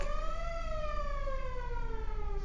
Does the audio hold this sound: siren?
yes